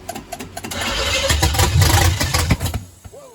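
A 1978 GMC engine cranks and catches, rising into a loud, rough run with uneven revving bursts before it dies away near the end.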